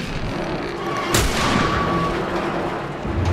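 A loud gunshot in the video game The Last of Us cracks out, followed by a ringing tone and rumbling echo over a noisy background.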